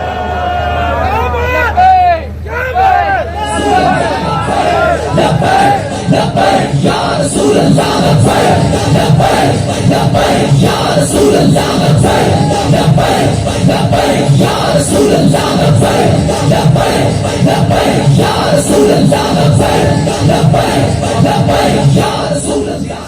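At a large religious conference outdoors, a huge crowd chants a slogan in loud, rhythmic, repeated bursts that swell and stay continuous, with a voice over a loudspeaker at the very start.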